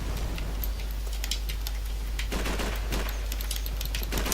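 Rapid automatic gunfire in the video game Call of Duty Modern Warfare 3, dense overlapping shots in bursts over a steady hum, continuous and fairly loud, with no voices.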